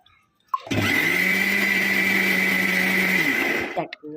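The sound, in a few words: mixer grinder blending batter with water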